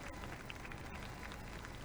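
Applause for the Mandvat team at a cricket match in the Shiv Chatrapati Chashak 2024 tournament: steady, fairly faint clapping from a crowd outdoors that lasts the whole moment.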